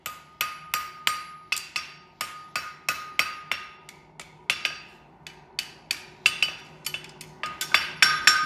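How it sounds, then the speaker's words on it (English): A farrier's hammer taps a clip on a horseshoe in crisp, metallic strikes, about two dozen in an uneven but steady rhythm, close and distinct with a short ringing after each blow. "get the flat side of a hammer, just give it a couple of slaps there"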